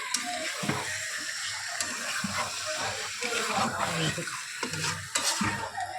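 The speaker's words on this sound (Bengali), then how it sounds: "চিকেনগুলো আমি ভালো করে এর সাথে কষিয়ে নেবো, মশলাটার সাথে চিকেনগুলো" Chicken pieces stirred and sautéed with masala for biryani in a pan, a steady sizzle broken by repeated scraping strokes of a spoon, close and moderately loud throughout.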